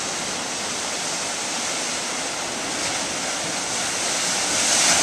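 Ocean waves crashing against rocks at Caleta de Campos, heard from a hilltop above the water as a loud, continuous roaring wash of surf with no voices.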